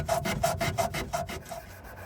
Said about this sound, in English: I also sanded the trim by hand so I wouldn't damage that beautiful shape.